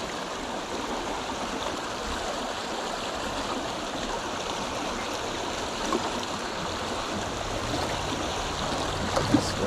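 Steady rushing of creek water flowing nearby, a constant broadband babble with no voices.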